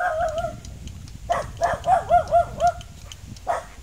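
A tied-up dog that bites gives a short cry, then a quick string of six or seven yelping barks in close succession, followed by one more bark, fairly near and loud with no talk.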